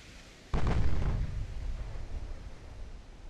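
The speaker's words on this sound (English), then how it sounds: "Oh, he just got hit by another torpedo. Ammo detonation over there." A torpedo strike and ammunition detonation aboard a warship in the naval game Ultimate Admiral: Dreadnoughts erupt as one sudden, loud explosion, its deep rumble decaying slowly over the next few seconds with no voices.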